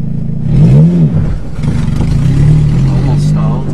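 A 5-speed manual car lurches and revs as a learner nearly stalls it, the engine note dipping and rising briefly under nearby talk.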